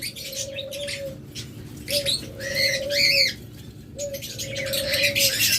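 A pair of rainbow budgerigars chirps in bursts of short, bright warbling calls, fairly close, over a steady low hum and a recurring mid-pitched tone in the background.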